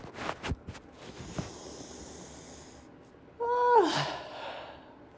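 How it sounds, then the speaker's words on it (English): Rapid, forceful breath-of-fire breathing, with a few sharp nasal exhales early on and a louder, longer breathy rush near the end, heard up close with no speech. "Breath of fire."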